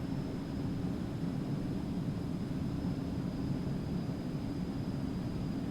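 Eclipse 550 light jet cruising in the X-Plane 11 flight simulator: a steady, loud broadband roar of engine and airflow with a faint high whine, unchanging and continuous throughout, with no talk.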